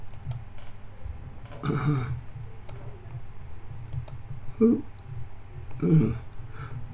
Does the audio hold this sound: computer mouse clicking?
yes